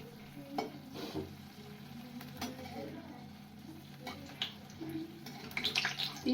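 Chillies frying in oil in a kadhai, stirred until crisp and blackened: a faint, soft sizzle with scraping and stirring clatter, quiet and close throughout.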